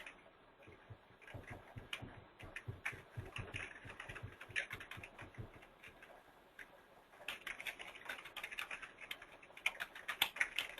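Steady typing on a computer keyboard, a rapid run of close, crisp key clicks, a short pause, then another burst of quicker tapping.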